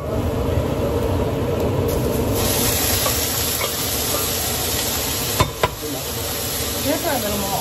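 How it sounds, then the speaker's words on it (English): Curry stirred in a hot pan, a steady broadband sizzle running throughout with scraping spoon strokes and a couple of sharp knocks near the end, close and continuous. "Keep stirring that so it doesn't burn on the bottom."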